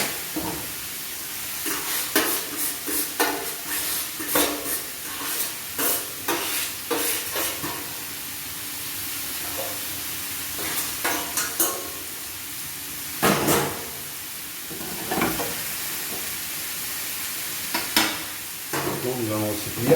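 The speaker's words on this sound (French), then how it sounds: "Je vais mettre un peu d'huile d'olive pour pouvoir récupérer" Hare in its marinade frying in olive oil, a steady close sizzle broken by repeated bursts of stirring and scraping in the pan throughout, with no voices.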